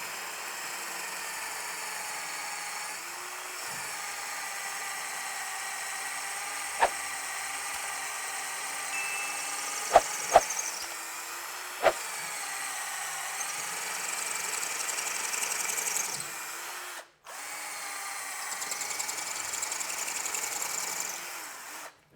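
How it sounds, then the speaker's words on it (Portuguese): A TB12A drill-driver from THE BLACK TOOLS, fitted with an 8 mm Bosch bit, bores into a masonry wall with a steady, close motor whine. It runs for about 17 seconds, cuts out briefly, then resumes, with a few sharp clicks along the way. "Vamos ver como ela se sai furando a alvenaria, furando a parede."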